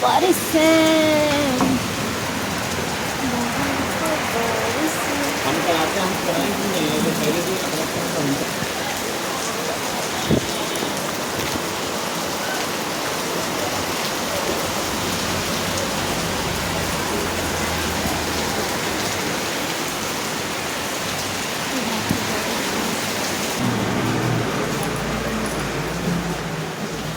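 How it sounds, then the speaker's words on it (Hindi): Steady rain pours outside in Haldwani, a dense, even hiss of drops on surfaces that continues unbroken for nearly half a minute, fairly close and loud, with no speech over it. "बाहर तो बारिश है"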